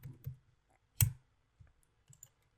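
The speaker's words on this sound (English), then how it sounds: "and now here I type person" A few light, sparse clicks of keys on a computer keyboard, with one sharper tap in the middle, faint and close in an otherwise quiet room.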